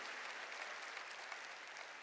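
A church congregation applauding during a Korean sermon, heard as a faint, even wash of many hands clapping at a distance, continuous and without speech.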